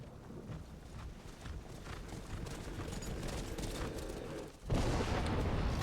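Shadowmere, the black horse from the video game Skyrim, gallops with a steady rapid clatter of hooves under windy rushing noise, briefly dropping out before resuming louder.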